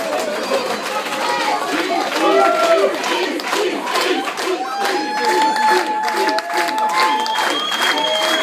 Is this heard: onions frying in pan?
no